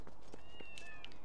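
Several short cat meows from Zelda Twilight Princess HD, a handful of soft, high, separate calls spread over a brief stretch at low level.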